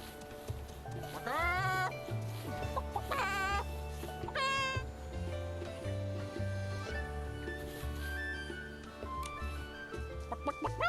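An old man character in the video game Infinity Nikki makes repeated clucking, chicken-like calls, sounding as rising bursts over steady game music with no speech.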